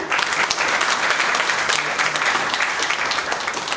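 Loud audience applause at a Guru Vandan welcome and felicitation ceremony, with hands clapping in a thick, unbroken roar that stays strong and level for nearly four seconds, free of speech.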